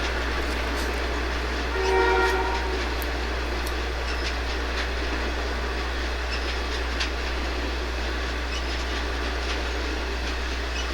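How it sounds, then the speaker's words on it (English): Grand Trunk Western run-through coal train passing at Granger, Indiana, a steady rumble of rolling cars with a brief horn-like tone early on and faint clicking over a constant low hum. "This is a run-through coal train, again on the Grand Trunk Western."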